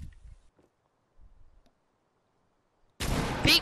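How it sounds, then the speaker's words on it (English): A Fortnite shotgun lets off one sudden, loud blast at the end, following a near-silent stretch with a few faint, low thumps. "I don't know why I'm using my shotgun."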